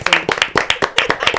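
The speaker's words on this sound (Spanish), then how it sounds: "Aplaudieron todos." A small audience at a political talk applauds, with loud, close, quick hand claps in an uneven rhythm over a short burst.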